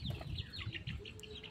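Local desi hens on a small farm cluck in soft, low bursts at close range, with thin high chirps from nearby birds and no talking.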